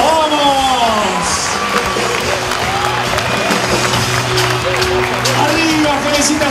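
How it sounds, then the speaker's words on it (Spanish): At a retail employees' union party, a crowd claps and cheers under loud talk and background music, a busy, continuous wash of festive noise from a large gathering. "¡Un aplauso!"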